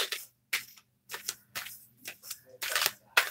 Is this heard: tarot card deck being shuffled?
yes